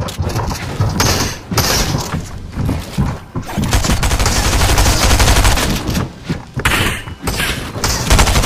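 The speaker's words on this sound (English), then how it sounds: "2 players start to try to take my wall by spamming their SMGs" Rapid SMG fire sprays in Fortnite Arena Trios as two players spam their weapons at a built wall, loud and dense bursts with thuds and breaking hits, nearly continuous for several seconds.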